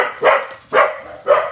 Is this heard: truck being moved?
no